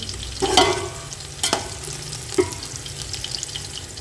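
Chopped onions frying in a pan for kabuli chana pulao, with a few stirring scrapes and brief sizzling bursts over a steady low background; no talking.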